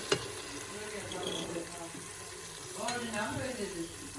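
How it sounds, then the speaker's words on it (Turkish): Steady, close sizzling and crackling of tomato paste frying in a pan, with faint stirring scrapes and voices murmuring softly in the background. "Salçamız kavrulup doğradığımız kabakları koyacağız."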